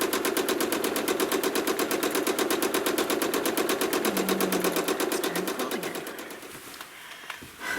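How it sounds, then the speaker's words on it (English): A sewing machine stitches freehand feathers into a quilt, its needle hammering in a fast, even rapid-fire rhythm for most of the stretch before slowing and stopping near the end, close and alone. "and then it's time to quilt again."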